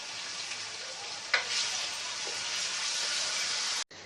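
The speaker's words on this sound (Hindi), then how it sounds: "अब हम इसमें ऐड कर देंगे हमारा कीमा। कीमे को हम थोड़ा फ्राई कर लेंगे अपने।" Minced keema sizzles steadily in a pan with browned ginger and garlic, a dense continuous frying hiss close to the mic, with a brief stir near the start and a short break just before the end.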